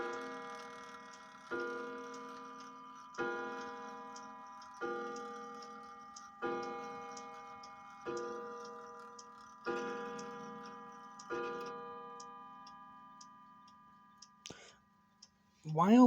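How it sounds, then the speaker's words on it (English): A New Haven antique mantel clock with a soft new leather hammer strikes about eight mellow, evenly spaced chimes that ring and decay, each fading before the next, followed by faint ticks and a brief voice at the end. "The leather in the hammer that's in it is new soft leather, so it doesn't sound very harsh like hard dried out leather does."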